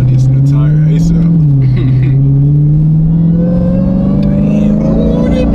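A Dodge Hellcat engine revs loud and close with a steady rumble and a rising supercharger-like whine that climbs in pitch, while people talk excitedly over it.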